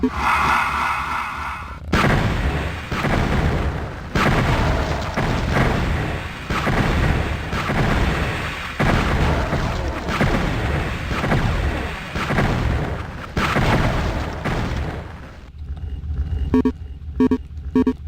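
Weapon fire in the first-person game Heretic, heard as a dense run of loud, repeated blasts and booms over several seconds, followed by quieter rhythmic pulsing game sounds near the end.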